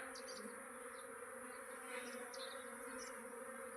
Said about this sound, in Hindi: ये नज़ारा मधुमक्खियों का